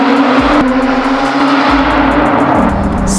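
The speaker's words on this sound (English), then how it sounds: "it is amazing what the sound of a good sounding motor can do to the human spirit" A Lotus Emira GTR engine runs close by with a strong, continuous throaty drone, its pitch shifting slightly across a few seconds with no voices over it.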